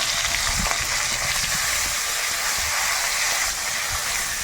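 Chopped tomatoes and slit green chillies frying in a pan with a pinch of asafoetida, giving a loud, continuous close sizzle with faint stirring scrapes underneath and no talking.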